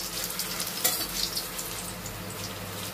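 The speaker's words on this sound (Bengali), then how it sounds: "এগুলো ভাজতে শুরু করব। তেল গরম হয়ে এসেছে।" Jackfruit koftas sizzle steadily in hot oil, a dense close crackle and hiss throughout with a brief stir or clink partway.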